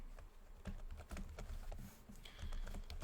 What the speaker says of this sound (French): J'essaye de taper sans regarder mon clavier, mais c'est un peu laborieux.